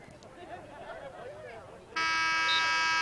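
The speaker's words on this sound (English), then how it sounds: "There's the buzzer for the end of the game" A long, loud electronic buzzer sounds at the end of a high school boys varsity soccer game, cutting in after crowd noise and an announcer's commentary and holding steady.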